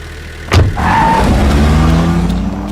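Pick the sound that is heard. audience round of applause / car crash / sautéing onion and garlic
car crash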